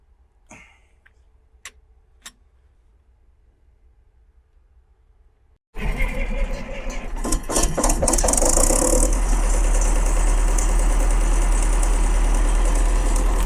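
A rebuilt engine on a grain threshing setup starts after a few quiet seconds with faint clicks, then settles into a loud, steady, rapidly ticking run that grows fuller and stays constant to the end.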